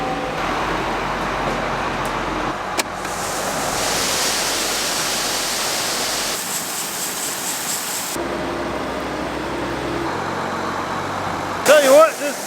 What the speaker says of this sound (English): We're gonna check and see if the grain leg will start. It did, it's running.